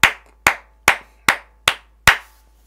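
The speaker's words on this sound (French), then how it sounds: "Est-ce que quelqu'un veut bien acclamer pour la gloire de Dieu" Six sharp claps in a steady, even rhythm about half a second apart, each crisp and close, from a church congregation applauding in worship.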